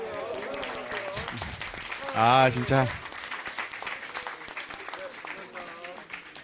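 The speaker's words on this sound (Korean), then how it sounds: "세 분께서 다시 한번 박수 드리면서 저희가 보내드리도록 하겠습니다" An audience at a climate and environment leadership talk concert claps to see off three guests, a moderate spread of applause running beneath a host's loud, animated voice and other speech.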